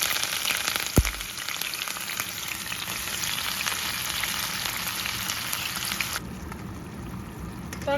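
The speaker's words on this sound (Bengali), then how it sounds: "এখন এই তেলের মধ্যে আমি একটু গোটা জিরা দিয়ে দিব।" Whole cumin seeds sizzle loudly and steadily in hot oil. A sharp knock comes early on, and the frying grows a little quieter for the last couple of seconds.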